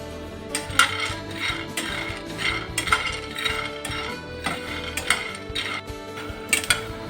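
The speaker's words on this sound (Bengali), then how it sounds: "আমি এখন এই मूंगफलीগুলো এতে ঢেলে দেব।" Peanuts dry-roast in a hot frying pan, rattling and clicking in repeated bursts as they are stirred and tossed, with a faint background hum and no talk.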